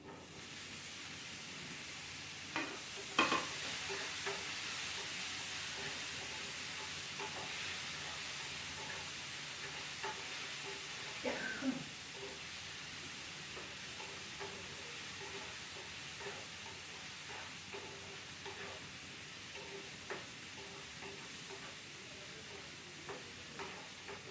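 Tomatoes going into beef frying in a pan, with a steady sizzle and hiss under intermittent stirring and scraping clatter, close and fairly quiet throughout.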